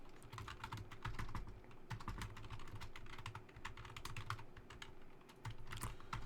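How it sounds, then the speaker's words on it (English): Steady, rapid typing on a computer keyboard, a dense run of close key clicks that keeps going for the whole stretch with no voices. "let me just type this up real quick"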